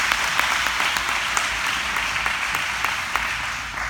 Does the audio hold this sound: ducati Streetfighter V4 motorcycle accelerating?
no